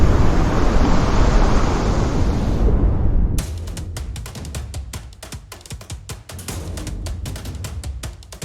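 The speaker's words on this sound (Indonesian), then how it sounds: "itu dia deretan ombak yang terlihat tidak nyata bagi orang yang melihatnya" Giant ocean waves, a roaring, wash-heavy surge that holds steady and loud, then turns into choppy crashing and buffeting wind noise with rapid gusty bursts.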